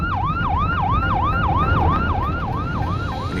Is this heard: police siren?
yes